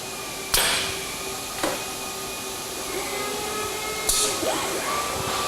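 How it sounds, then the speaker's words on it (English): Lathe chuck clamps a part during robotic machine automation, heard as a few sharp metallic clanks over a continuous loud machine hum and whine in a workshop. "and now we're going to clamp the chuck."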